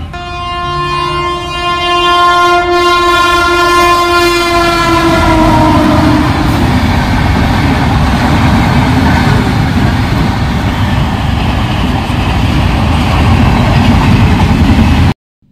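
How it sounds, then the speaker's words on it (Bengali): A train blows a long, loud horn while approaching a closed level crossing near Dhulian station, then rumbles past close by with a steady, heavy roar of wheels and wagons that fills the rest of the clip. No speech. "আর তো ট্রেন ঢুকে পড়েছে।"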